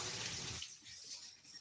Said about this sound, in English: you're gonna rinse it until you see that water that's running through